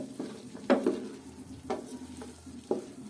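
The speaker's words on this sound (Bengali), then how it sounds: "তো আমি এই চামচটা দিয়ে একটু হালকা হালকাভাবে থেতো করে নেব" A spoon mashes samosa potato filling in a pan over low heat, giving a faint steady sizzle broken by three or four sharp clinks and scrapes of metal against the pan, close and without speech.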